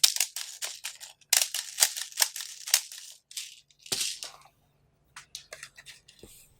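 Rapid sharp cracks of an upgraded airsoft DSG gun firing tracer BBs, bursts of close snapping shots in quick succession, then a pause and a few scattered single shots.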